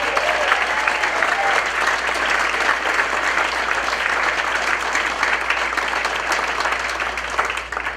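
Sustained applause fills a jazz café after a school jazz combo's festival win, steady dense clapping from a full audience that continues throughout without pause.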